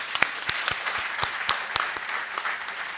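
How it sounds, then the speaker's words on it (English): Conference audience applauding speakers at a national GST conference: dense, steady clapping from many hands with sharp individual claps standing out, sustained and fairly close throughout. "give them big round of applause"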